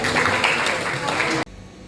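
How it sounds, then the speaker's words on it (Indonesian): Classroom of high school students clapping together in an Islamic studies lesson, a dense, steady burst of hands that stops abruptly after about a second and a half, leaving a quiet room. "Nah, tepuk tangan buat kita."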